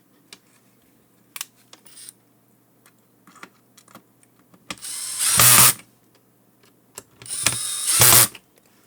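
Small screws driven into the wireless RX/TX transceiver card of an HME drive-thru intercom, with two loud bursts of whirring power-driver buzz preceded by scattered clicks and taps of handling the parts close by.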